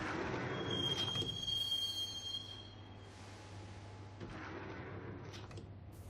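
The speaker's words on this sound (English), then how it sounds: "the train doors had already shut behind me, and I was in for the ride" A subway train ride in the Max Payne video game: a steady low rumble of rolling carriages with a thin metallic squeal from the wheels early on, then a continuous hollow rattle.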